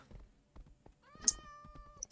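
A single drawn-out meow from a Minecraft cat, clear but fairly quiet, over faint low game sounds.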